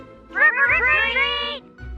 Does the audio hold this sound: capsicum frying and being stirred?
no